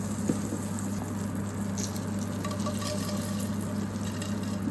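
Garlic frying in melted margarine in a pan, a steady close sizzle and crackle running evenly throughout with no voices.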